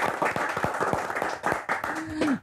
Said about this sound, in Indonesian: Tepuk tangan lagi yang banyak.